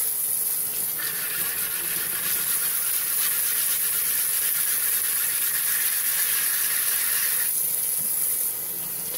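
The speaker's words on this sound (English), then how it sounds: "I will go ahead and lap it and flatten it a little bit outside of the water" A honing stone for straight razors being lapped flat out of the water gives a continuous gritty scraping hiss, steady and close, with a brighter rasping layer through the middle stretch.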